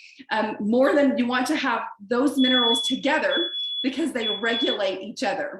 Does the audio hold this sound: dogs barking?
no